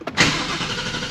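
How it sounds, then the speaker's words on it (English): 2021 Ford Mustang Mach 1 V8 firing up after a fuel pump replacement, a brief starter crank then a loud catch into a steady running rumble, close by. "Time to hit the starter."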